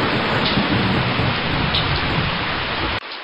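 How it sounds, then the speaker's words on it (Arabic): Heavy rain pours steadily during a thunderstorm, a loud, dense hiss with low thunder rumbling beneath it, then cutting off abruptly near the end, with no voices. "فصوت الرعد مخيف جدا"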